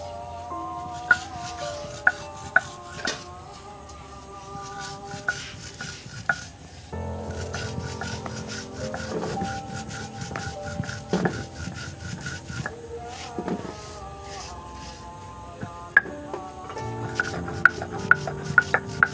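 Coriander and spices for a raw mango pickle are ground on a stone slab, with repeated rough scraping and rubbing strokes punctuated by sharp clicks and knocks, close and fairly quiet.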